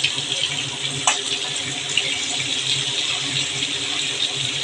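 Tap water runs steadily into a kitchen sink while an ingredient is rinsed during home cooking of a hilsa fish dish, a continuous close splashing hiss.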